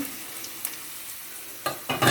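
Tempe in a seasoned flour batter frying in oil, giving a faint, steady sizzle with a few soft stirring or lifting clatters toward the end and no talking.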